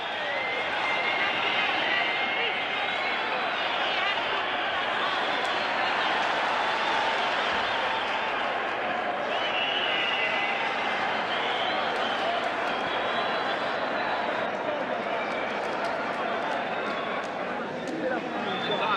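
A large arena crowd roars and cheers after a fighter wins by TKO, a dense, steady wall of voices and applause that stays loud and continuous throughout.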